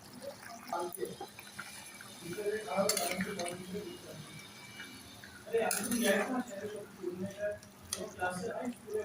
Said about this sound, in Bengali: দেখুন ঝোলটা ভালো ফুটে গেছে, এবার আমি রসগোল্লাগুলো এতে দিয়ে দেবো।